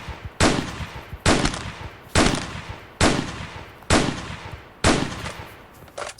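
AWP rifle in the Roblox game Cops N Robbers firing seven loud, sharp shots at an even, quick rhythm of roughly one per 0.8 seconds, each with a short decaying tail, alone without talk.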